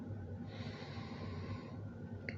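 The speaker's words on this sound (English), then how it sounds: "First, of course, the sniff." A single long nasal sniff of Buffalo Trace bourbon whiskey, quiet and close, drawn in steadily over a couple of seconds with faint background noise.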